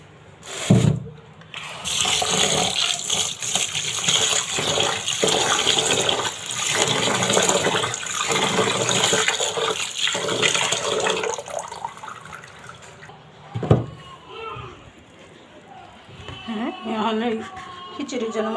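Running water rushes steadily as something is washed under a tap in a home kitchen, with a few louder knocks and splashes, then the flow eases near the end.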